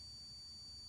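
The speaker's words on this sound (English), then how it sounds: "it's getting continuity through my" Continuity tester beeping while probing a stock Ford ignition pigtail plug from a 1966 Mustang: a single faint, steady high-pitched electronic tone that holds for under a second.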